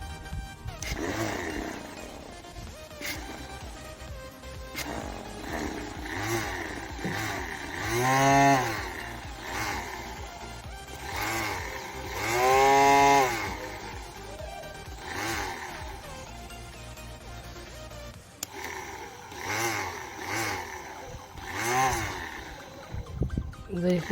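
A small motor spins a homemade drill chuck attachment built from a pressure cooker valve on a 5 mm shaft, whining and revving up and down in several surges, with someone talking over it.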